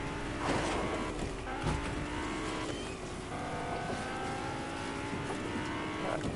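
Car engine driving in the Fortnite video game, a steady mid-level motor drone with a few rising revs and some rough clatter as the vehicle crosses grass, running continuously throughout with no talking.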